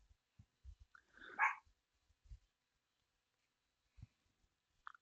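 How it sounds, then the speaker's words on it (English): A dog barks in the background indoors, one clear distant bark followed later by a short second yelp, amid faint scattered thumps and otherwise quiet surroundings. "The dog's barking."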